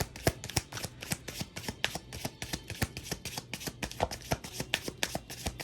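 Playing cards riffled through an overhand shuffle by hand, a rapid run of crisp papery slaps and flicks at a steady, slightly uneven rhythm, close and fairly loud, with no voices over it.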